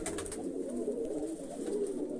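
Pigeons coo in a steady, continuous low murmur, fairly close and alone, with no talking.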